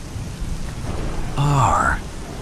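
Steady rain hisses throughout, with a low thunder rumble swelling in the middle. A brief tonal, voice-like sweep rises over the storm before it settles back to rain.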